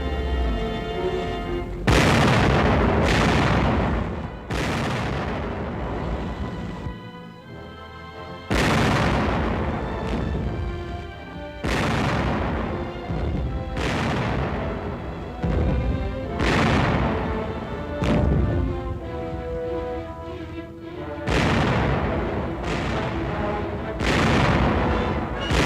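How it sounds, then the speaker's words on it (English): Tank cannons in a WWII wartime film fire direct shots as a series of loud, deep booms. Each blast decays into rumble, and about a dozen reports come at irregular intervals, some overlapping. "By direct fire, trained armored force gunners clear obstacles for their infantry teammates."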